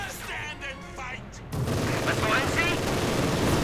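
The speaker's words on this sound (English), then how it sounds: "MG fire though" Rapid machine gun fire from a World War II MG team in Company of Heroes 2, a dense crackling burst starting midway and continuing steadily under busy battlefield noise, with a commentator talking over the first half.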